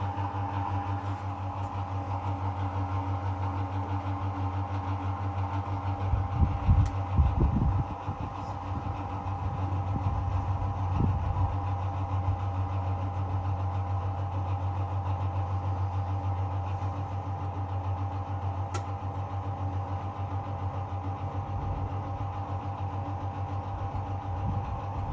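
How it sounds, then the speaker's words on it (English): A Simpson Model 164 washing machine's drain pump runs as a steady, close mechanical hum, with a few brief clunks and splashes partway through the cycle. "Pump is still pumping."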